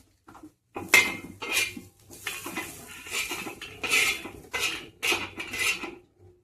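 A metal utensil scrapes roasted onion off a thin iron griddle in a string of close, sharp scrapes and clinks, separated by short pauses.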